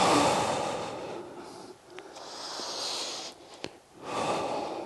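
Deep breathing during a joint mobility warm-up, with loud breathy exhales and inhales rising and falling close to the mic, plus a couple of small clicks.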